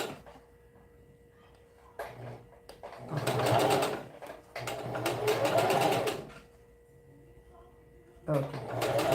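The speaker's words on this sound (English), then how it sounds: "as you sew, you want to make sure you're looking at it, because sometimes the bottom thread breaks" A sewing machine stitching the hem of a bell sleeve being turned into a puff, running in two long bursts of rapid stitching with a short start near the end, while someone talks between the runs.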